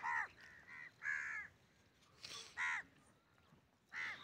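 Crows flying over a yellow mustard field caw in several separate harsh calls, some in quick doubled bursts with gaps between, moderately near and alone against a quiet outdoor background.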